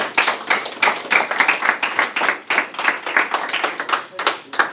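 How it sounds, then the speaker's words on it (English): An audience at a private entrepreneur event in Los Angeles gives a round of applause, with dense, crisp hand claps in steady waves that swell and ebb, nearby and loud. "Give him a round of applause."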